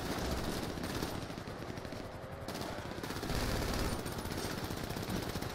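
Rapid gunfire exchange in a video game, a dense, continuous rattle of automatic weapon fire with overlapping bursts that stays loud and steady throughout.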